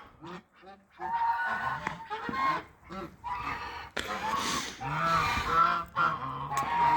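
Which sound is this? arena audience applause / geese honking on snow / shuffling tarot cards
geese honking on snow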